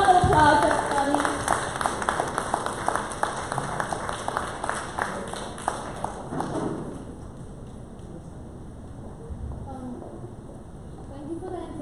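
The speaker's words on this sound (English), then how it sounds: "Big round of applause, everybody." Audience applause at a live-streamed talk, greeting a primary school student called up as the next speaker; dense clapping fills the first six seconds, then thins into scattered claps and crowd murmur.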